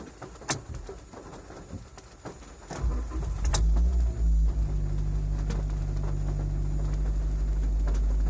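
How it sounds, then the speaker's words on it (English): A Mazda 2 DE car starting: faint clicks and small mechanical noises, then about three seconds in the engine cranks and catches into a steady, close low idle hum. "I'm actually going to try to start the car."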